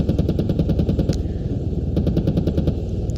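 An AH-64 Apache helicopter's cannon fires in the Squad military video game, a loud, rapid, steady burst of shots that breaks briefly around the middle and then resumes, with no talking.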